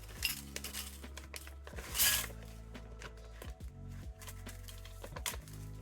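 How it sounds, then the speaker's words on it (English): Rice noodle squares and powdered seasoning from an instant noodle packet tumble into a bowl, giving a run of light clinks and rattles with one louder pouring rush partway through, close and clear with no talking. "Let's pour it into this bowl."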